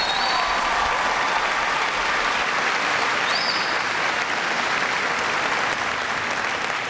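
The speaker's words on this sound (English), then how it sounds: "Give him a big round of applause." Loud, dense applause from a large crowd of service members at Naval Station Rota, continuous clapping with occasional whistles holding steady throughout.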